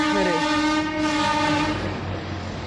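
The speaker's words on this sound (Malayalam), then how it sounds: "എന്നാ ട്രെയിൻ പോകുന്നു, ട്രെയിൻ പോകുന്നു." A passing train sounds its horn in a long, loud, sustained blast over the steady rumble and rattle of the moving carriages, close by and heard without talk.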